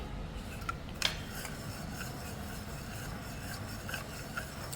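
Castor oil hair mixture being stirred in a small bowl, giving faint continuous rubbing and scraping with a couple of light clicks, close and quiet with no talk.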